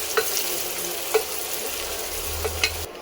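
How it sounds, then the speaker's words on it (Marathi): Onions fry in hot oil, a constant loud sizzle punctuated by a few light clicks of a spoon stirring the pan, with no voices. "आता कांदा छान गोल्डन फ्राय होईपर्यंत आपल्याला तेलामध्ये फ्राय करून घ्यायचा आहे"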